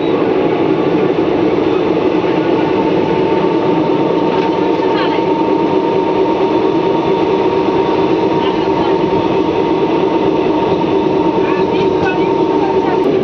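Steady, loud rumble of the Palnadu Superfast Express running between Guntur and Vikarabad near Sanath Nagar station, heard from on board as a continuous wash of wheel and carriage noise with faint clicks throughout.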